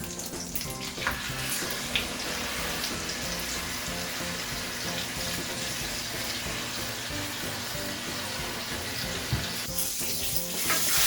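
Pork chops sear in a pan of melted butter and olive oil, a steady, close sizzling and crackle running unbroken throughout with a few sharper pops.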